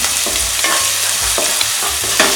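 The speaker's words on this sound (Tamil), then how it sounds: "இப்போ இந்த இஞ்சி பூண்டு போட்டுருங்க. அதில் இஞ்சி பூண்டு கொஞ்சம் வதங்கட்டும்." Ginger and garlic sauté loudly in a pan for green peas masala, a constant close sizzle broken by rhythmic scraping stirs roughly every half second.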